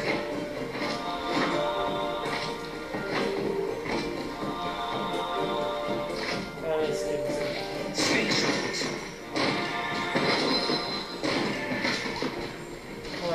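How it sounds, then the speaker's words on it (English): Cobra Cadabra's magical explosion in the video game Skylanders Trap Team: a run of bright crashing and thumping bursts layered over busy game music and effects, loud and repeated across the stretch. "Press C to launch it to active Cobra baskets to create a massive explosion."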